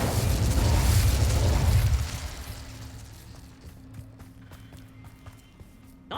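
A burst of fire magic from the Incendio spell in Hogwarts Legacy erupts loudly with a deep whooshing blast, then fades over two seconds into quieter game ambience with small scattered clicks and taps.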